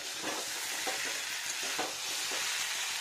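Ginger frying in mustard oil in a pan while cooking a vegetarian cabbage dish, a continuous loud sizzle and crackle with a few soft stirring scrapes, no talk.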